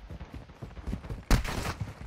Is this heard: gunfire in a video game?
yes